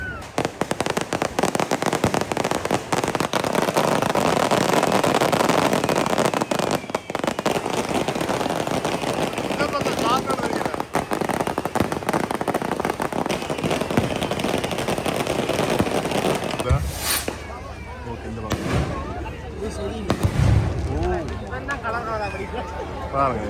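Fireworks burst at the Mathagal Kevi festival in Jaffna, a dense, loud rattle of crackling explosions for most of the stretch, thinning into scattered bangs with crowd chatter around them.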